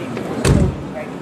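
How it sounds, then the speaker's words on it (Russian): A vehicle door is shut on a rail vehicle at the Innotrans 2016 trade fair, a single solid thump at close range, with someone speaking over the moment. "Сейчас давай двери закроем."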